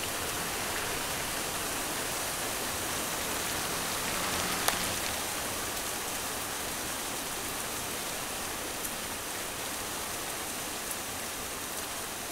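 Steady rain falling during a wet summer holiday, a dense, even hiss of drops on surfaces that holds constant throughout with no voices, close and enveloping with only a couple of slightly louder individual drops.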